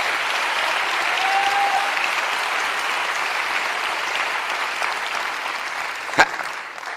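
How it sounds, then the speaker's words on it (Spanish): Sustained, evenly dense applause from a church congregation, a steady roar of clapping for several seconds with one sharp louder crack near the end. "Dale un aplauso al Rey."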